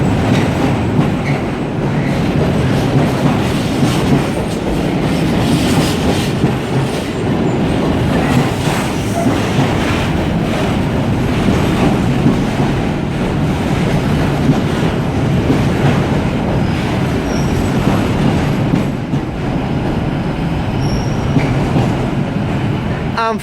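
A long freight train hauled by two Class 68 locomotives rumbles past up close at Carlisle on the West Coast Main Line, wheels clattering rhythmically over the rails with a heavy, continuous roar and occasional squeals.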